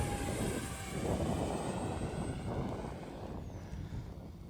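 A small Arrows 50mm EDF RC jet passes with a broad airy rush that swells and then gradually fades, heard outdoors at moderate distance and fairly quiet.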